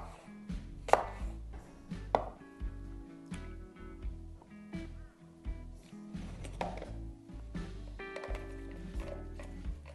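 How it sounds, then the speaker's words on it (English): Knife chopping fruit into small pieces on a cutting board for homemade jam, a steady run of firm, close knocks with a few louder strikes, heard alone. "I'm just going to chop my fruit up into little jam pieces."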